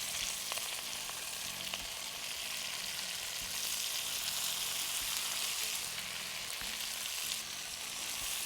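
Kang kong dropped into a pan with golden fried garlic, giving a continuous soft sizzle and gentle frying crackle that hold steady throughout at a moderate, even level.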